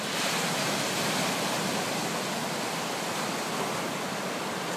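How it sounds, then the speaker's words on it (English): Ocean waves crash where the Elwha River empties into the sea, a steady, broad roar of surf that stays even and unbroken throughout, with no talking. "You can hear the waves crashing in the background."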